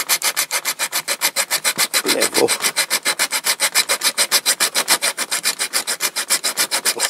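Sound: filing down Dinky Toys die-cast metal parts

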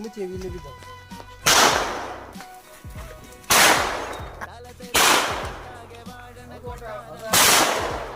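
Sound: palm-leaf firecrackers bursting

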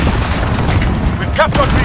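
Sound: grenade explosion in Call of Duty Modern Warfare video game

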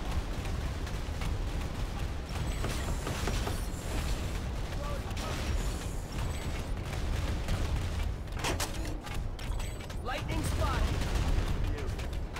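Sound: anti-aircraft gunfire from an AA nest in Planetside 2 (video game)

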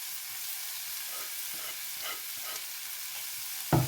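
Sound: carrots and green chillies sautéing in a pan for noodles

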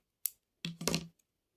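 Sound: scissors cutting crochet yarn

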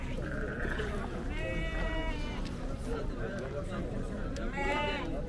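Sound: goats bleating

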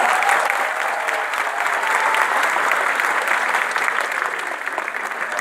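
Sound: applause

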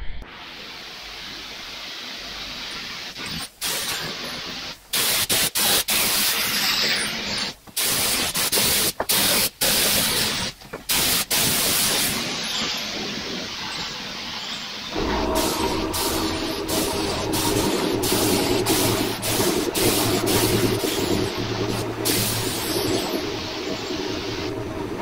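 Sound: spray painting primer onto power harrow parts

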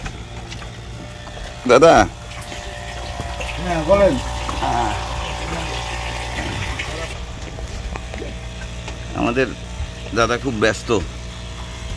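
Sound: two-cylinder trawler engine running in the engine room

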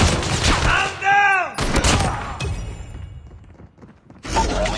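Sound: gunfire in Call of Duty video game

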